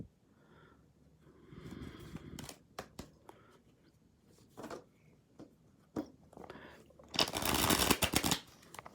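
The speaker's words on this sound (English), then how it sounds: "Let me just shuffle them at least twice, so that they get another energy." A deck of tarot cards is shuffled by hand up close, with soft riffling bursts and a louder, dense flurry of card noise near the end, amid quiet handling sounds.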